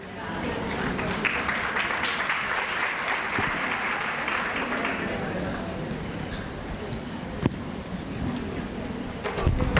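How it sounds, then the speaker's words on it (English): Steady crowd applause at a government Women's Month launch event in KwaZulu-Natal, moderately loud and continuous, with a few sharp knocks and some background voices. "Please give the ladies a big round of applause."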